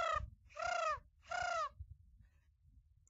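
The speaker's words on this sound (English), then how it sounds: "That's the sound of a Tribble." A Star Trek Tribble sound effect heard at a sci-fi fair, three short, warbling, bird-like trills in quick succession, faint against a quiet background.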